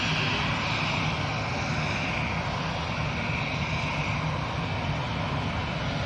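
Lufthansa jet airliner rolling for takeoff at Manchester Airport: a steady, loud, broad engine roar that holds continuous throughout, heard from a distance with no voices.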